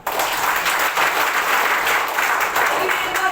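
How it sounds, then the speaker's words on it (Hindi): A seminar audience bursts into strong applause, dense continuous clapping heard loud and close for a few seconds. "आप सभी के लिए जोरदार तालियां।"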